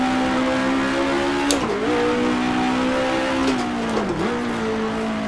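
Race car engine held at steady high revs, with two sharp dips as the driver downshifts to third gear into a corner, each followed by the engine climbing again, loud and close throughout.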